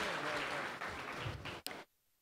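An audience at a kavi sammelan poetry gathering claps in a short, dense burst of applause that fades away after under two seconds, leaving quiet.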